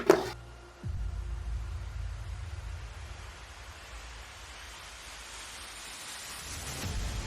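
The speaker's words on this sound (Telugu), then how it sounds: "బయట వర్షం కూడా పడుతుంది అనమాట" Steady rain falling outside during a late-night study session, a soft continuous wash of noise after a brief louder onset, heard alone with no voices.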